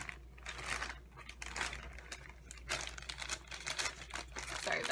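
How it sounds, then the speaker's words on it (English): Plastic packaging around a yarn order crinkles and rustles up close during unboxing, steady handling noise for several seconds with no speech. "Sorry about any crinkling"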